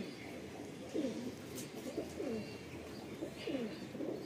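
Pigeons at a pigeon sale in Latur, India coo softly and repeatedly in low, rolling phrases, faint and somewhat distant, over steady background noise.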